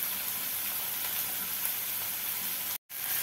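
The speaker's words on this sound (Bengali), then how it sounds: "শুকনো লঙ্কাগুলো ভাজা হয়ে গেছে" Dried red chillies frying in hot oil in a pan give a steady, even sizzle that runs unbroken and then cuts out abruptly for a moment near the end before resuming.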